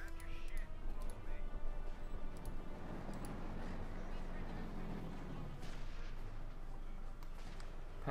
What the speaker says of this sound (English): Light machine gun fire there, causing quite a bit of grievous harm.